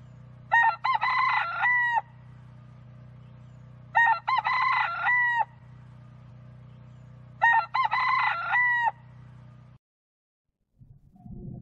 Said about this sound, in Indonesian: ketika itu berkokoklah ayam